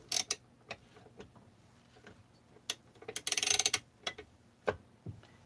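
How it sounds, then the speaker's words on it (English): A ratchet tightens a 5/8 nut, giving scattered clicking bursts with one quick run of rapid ratcheting clicks in the middle, close and fairly quiet. "you can use, instead of an open-ended wrench, you can actually use a ratchet"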